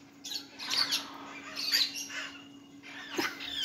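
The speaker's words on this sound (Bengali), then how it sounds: "তো আপনারা এই পাখির যে কলকান্ত শুনতে পাচ্ছেন" Birds call among old trees in the Bibhutibhushan wildlife sanctuary, a few sharp squawking bursts repeating about once a second over a steady low hum, moderately near, with no voices.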